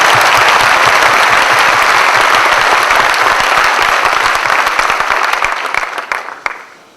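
Loud audience applause from a large crowd at a gathering, dense steady clapping that swells then fades out over the last second, with no voices over it.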